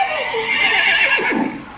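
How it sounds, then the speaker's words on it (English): A horse neigh played through a Google Home Mini smart speaker, one long whinnying call with falling pitch and a tinny, speaker-reproduced tone, close and fairly loud. "a horse sounds like this"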